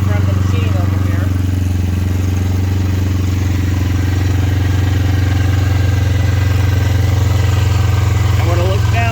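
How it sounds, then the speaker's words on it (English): A warmed-up Yamaha Phazer snowmobile engine idles in a steady, loud, even drone with a faint mechanical clatter, running continuously without change in pace. "You can hear the machine just warmed up, and the idle slowed down a little bit."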